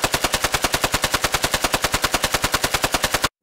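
Looped fully automatic gunfire made for a video game, about thirty rapid evenly spaced shots at roughly ten per second, loud and close, stopping abruptly.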